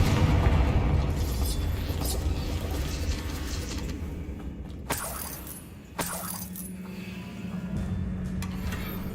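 In the video game Hogwarts Legacy, a Confringo blasting spell goes off as two sharp explosive cracks several seconds into a steady rumbling background, the second followed by a lingering low hum.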